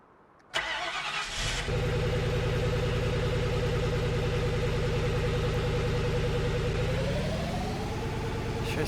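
A 1958 Chevy Apache truck engine in Farming Simulator 19 cranks, catches and settles into a steady, even idle, loud and close, with a slight rise in pitch near the end.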